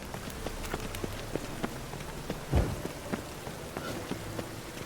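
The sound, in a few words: rain in The Witcher 3: Wild Hunt video game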